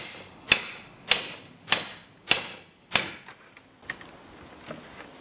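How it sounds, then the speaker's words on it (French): A steel brick chisel is driven between two wooden boards of a chicken coop panel to shear through nails, with five sharp, evenly spaced hammer strikes close by, then a few fainter taps trailing off. "on glisse le ciseau à briques entre les 2 planches et on tape pour enfoncer le ciseau à briques"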